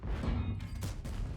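In a tank video game, a T92 light tank's cannon shell strikes its target with a muffled boom and a couple of quick thumps, fairly quiet and brief.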